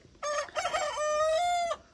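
A rooster crows once, loud and close, the call rising then holding a long strained note before cutting off.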